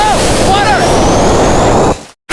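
Water gushes loudly and continuously from a newly built well in a small Kenyan village, with a brief whistling tone over the rush before it cuts off abruptly near the end.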